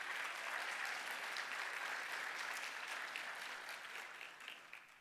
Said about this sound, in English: Please, a round of applause for the Dream PACT team.